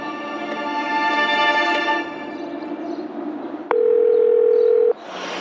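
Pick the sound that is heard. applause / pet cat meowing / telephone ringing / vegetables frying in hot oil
telephone ringing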